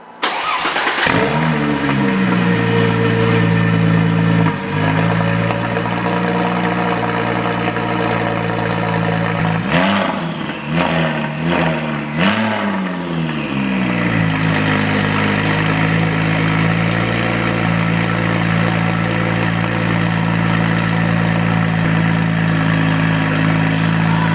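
A 2005 Porsche 911 Turbo S (996) engine with a new Soul Performance exhaust cranks and fires up, settling into a loud, steady idle with a burst of quick revs midway before returning to a rumbling idle.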